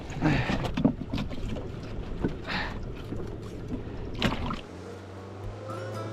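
Outboard engine on a fishing boat running offshore, a steady low drone under wind and water noise that drops to a lower idle near the end.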